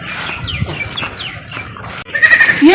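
A goat bleats several times in short, wavering cries, close by, followed by a louder burst of noisy rustling at the end.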